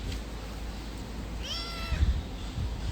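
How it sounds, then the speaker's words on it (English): A pet cat gives one short meow near the middle, fairly faint against a quiet indoor room, with low background rumble and no talking. "she's a very lovely cat"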